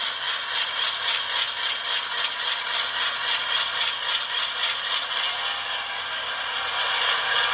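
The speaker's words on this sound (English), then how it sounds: "Crawling all the way, and you got the brake squeal there." An HO scale Dash 9 model locomotive with an ESU LokSound decoder crawls at low speed, making a steady high metallic rattle and squeal from its brakes and mechanism that runs continuously and close, with no talk.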